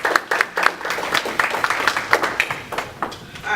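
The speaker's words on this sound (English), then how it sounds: "Give her a round of applause." Audience applause at an economic empowerment and entrepreneurship panel event, a brief round of scattered clapping from a modest crowd, fairly close and moderately loud with no talking over it.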